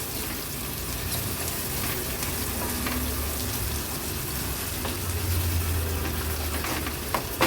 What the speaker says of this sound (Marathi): कांदा लो टू मीडियम फ्लेमवर व्यवस्थित शिजवून घ्यायचा आहे आपल्याला